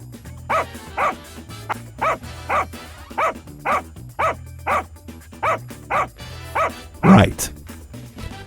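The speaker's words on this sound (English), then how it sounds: "Let's do the second bark." A cartoon dog's barks for a 2D animation, a regular series of about fourteen evenly spaced, close, punchy woofs, with a louder yelp-like burst near the end.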